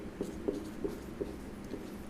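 Soft, faint scratches and taps of writing on a board or paper in a classroom biology lesson, a few brief strokes spaced about a quarter-second apart.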